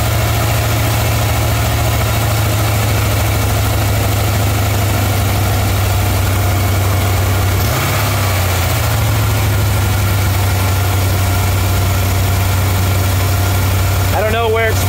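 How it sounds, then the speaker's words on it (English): A 1987 Chevrolet Corvette C4 V8 idles steadily and loudly up close, a low, constant rumble with a brief dip in pitch midway as the idle speed is adjusted, no talking heard. "All right, let's see if I can turn the idle down."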